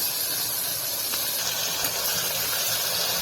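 A large chopped onion hits hot oil with bay leaves for Khandeshi masala khichdi, giving a steady, loud, hissing sizzle that runs unbroken throughout with no voices.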